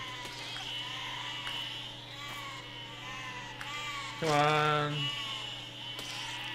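Sheep bleat in the video game Besiege: several wavering, nasal bleats, one louder and longer near the end, heard close under a man's brief muttered words and game noise.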